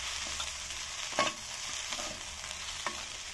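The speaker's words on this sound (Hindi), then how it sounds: "इन सबको अच्छी तरह मिक्स कर लेंगे।" Sprout vegetables and capsicum are stirred together in a pan with a soft, quiet sizzle and a few light scraping knocks from the spoon.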